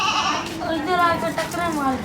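A goat at a livestock market bleats in a long, wavering cry that fills the clip, loud and close, with other market noise around it.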